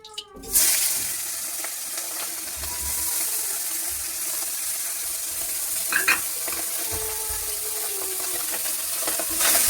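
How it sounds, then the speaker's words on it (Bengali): Tangra and pabda fish fry in hot oil with a steady, close sizzle that runs throughout, dotted with occasional faint clinks and stirring. "হালকা করে ভেজে নিলাম।"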